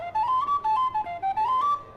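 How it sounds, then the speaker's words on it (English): A tin whistle, the small penny whistle played in Irish music, sounds a bright, clear melody of connected notes close to the listener, played alone with no talking. "you learn on the tin whistle, the little penny whistle"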